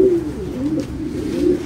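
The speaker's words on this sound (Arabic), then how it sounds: "الحمام كله عليه ريش يا جماعه" French meat pigeons coo close by, a soft repeated rolling coo lasting the whole moment, loud and alone.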